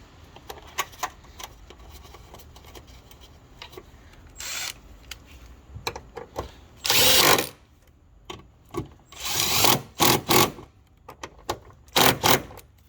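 Ratchet driving 10mm airbox mount bolts on a BMW E46, close rapid clicking bursts separated by pauses and clunky tool handling, several loud ratcheting runs toward the end.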